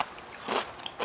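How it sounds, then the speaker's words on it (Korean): A single crisp, crunchy bite into a freshly washed raw paprika (bell pepper), close and clear, with a brief snap and no talking over it. "정말 아삭아삭한데요?"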